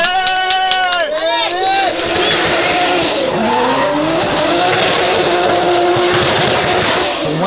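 A Toyota Supra drift car at a French drift championship round, its engine revving hard with long, loud tyre squeals throughout, close and continuous, while a commentator talks over it.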